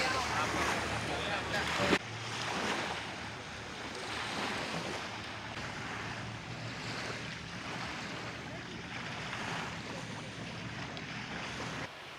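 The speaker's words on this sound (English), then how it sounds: "a few narrow sections where the boat picks up a bit of speed" A tour boat runs through narrow mangrove channels in Langkawi, its motor and rushing water making a steady close wash with wind buffeting the microphone, rising slightly as it picks up speed.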